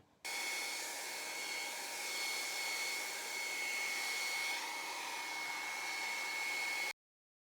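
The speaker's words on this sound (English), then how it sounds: "maybe I should go grab my hair dryer" A hair dryer runs steadily for several seconds with a constant whine over a breathy airflow roar, then cuts off abruptly.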